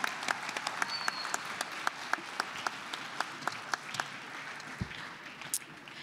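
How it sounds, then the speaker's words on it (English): Audience at a Latino youth conference applauds an art contest winner, a thin patter of many hands with a few louder, sharper claps standing out near the microphone. "So let's give Elise a round of applause."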